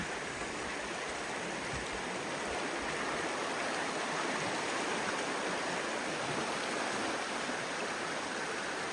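Steady rushing river under rainfall, a broad continuous wash of water noise close by with no break over the whole stretch, where a fly fisher is after trout.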